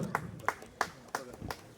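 A few people clapping for guests at a film launch event, sparse individual claps in an uneven rhythm of about six strikes, close and modest in volume.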